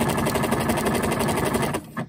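A sewing machine runs at full throttle sewing a jacket, giving a steady, loud, rapid mechanical whirr and needle chatter that stops abruptly near the end.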